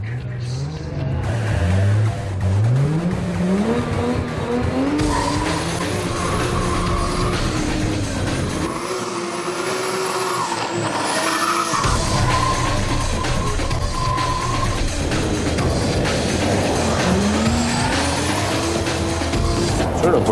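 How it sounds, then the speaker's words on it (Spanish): Toyota Supra and Nissan Silvia drifting, engines revving loudly and continuously with rising and falling pitch sweeps, turbo whooshing and tire squeal throughout, close and sustained. "hay un turbito ahí que está soplando de modo importante"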